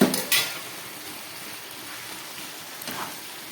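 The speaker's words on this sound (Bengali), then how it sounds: "এবার এই ভেজে রাখা আলুগুলো আমি এর মধ্যে দিয়ে দিচ্ছি" Fried potatoes tipped into chicken curry in a pan give a soft sizzle and a couple of clattering stirs at the start, then a low steady frying hiss, close and without speech.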